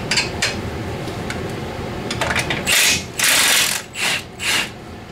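An 18 mm ratchet wrench works a radius rod bolt on a Polaris RZR Turbo during a trailing arm install, first as quick, soft clicking, then as four loud, close ratcheting bursts in an uneven rhythm.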